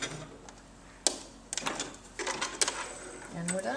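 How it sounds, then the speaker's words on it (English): A sewing machine runs in short bursts with sharp clicks while finishing the edge of a party napkin with a lock stitch, heard close and mixed with a person talking. "I'm going to finish with a lock stitch"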